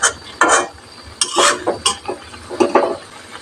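Fish curry stirred in a pan, with spoon scrapes and clinks against the metal sounding in several short close bursts over a low simmer.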